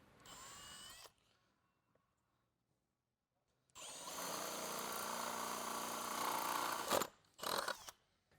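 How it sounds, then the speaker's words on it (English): Power drill boring through the bottom layer of plastic on a sensor assembly during an installation, heard in one short burst, then a long whirring run after a pause and a couple of brief final bursts, close and fairly loud. "Holding the sensor assembly in position, also drill out the bottom holes."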